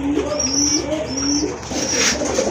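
Rajgolla pigeons cooing in a loft, a pair of soft repeated rolling coos close by, with a faint chirp and light background noise.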